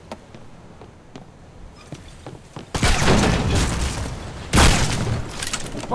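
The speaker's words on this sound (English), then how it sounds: "Fire the left cannons!" Two heavy booming volleys of ship cannon fire in a naval battle video game, the first lasting nearly two seconds and the second shorter, following a few faint clicks and thuds.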